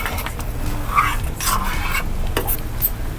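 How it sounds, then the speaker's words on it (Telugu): Spoon stirring methi chaman curry with dried kasuri methi in a pan, soft scraping and light clinks against the metal over a quiet sizzle. "ఒకసారి కలుపుకుందామండి."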